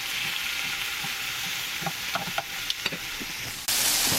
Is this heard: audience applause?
no